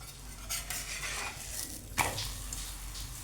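Chapati cooking with a little oil on a hot pan: a soft, continuous sizzle with light scraping and a sharp clink partway through, fairly quiet.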